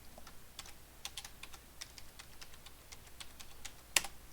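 Computer keyboard keys tapped while entering a password during a Kali Linux setup, with scattered light clicks at an uneven pace and one sharper keystroke near the end, quiet and close with no talking.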